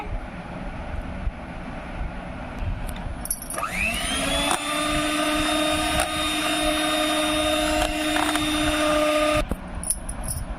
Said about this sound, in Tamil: வெண்ணெய் மெல்ட் ஆகிற வரைக்கும் பீட் பண்ணுங்க.